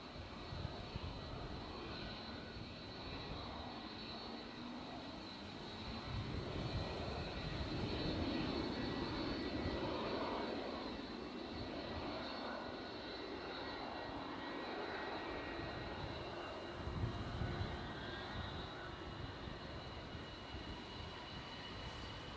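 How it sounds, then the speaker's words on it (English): An EasyJet airliner departing from the active runway at Edinburgh Airport, its engines making a steady, broad roar that swells gradually and holds at a distance with no talking. "So we've got an EasyJet just about to depart, just taking the active runway."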